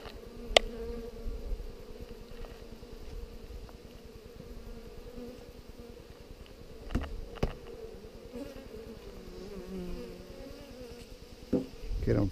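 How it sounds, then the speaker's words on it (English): A steady drone of many honeybees buzzing around a hive, continuous and fairly loud, with a few scattered knocks and clicks. "it definitely appears to be more bees"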